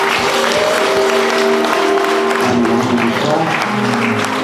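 A church congregation applauds during a pastors' ordination service, a dense, loud wash of clapping filling the whole moment, with a sustained musical tone underneath.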